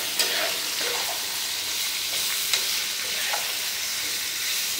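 Sliced raw plantain frying in a pan, heard as a continuous bright sizzling hiss with a few faint stirring knocks, close and steady, with no voices.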